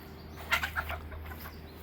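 Chickens in the main coop give a few soft clucks close by, brief and fairly quiet against a low steady background hum.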